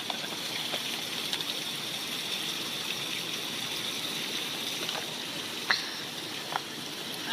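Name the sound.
water squeezed out through a portable water filter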